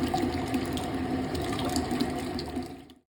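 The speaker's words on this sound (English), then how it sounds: "water will flow out of and into the bucket" Water pouring steadily into a bucket during a descaler flush of a Navien tankless water heater, a continuous splashing rush with faint mechanical clicks from a pump, close by, cutting off abruptly at the end.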